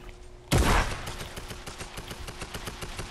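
A gun in Fortnite opens up with a loud blast, then fires a fast, steady stream of rapid shots that continues to the end, close and loud, with no talk.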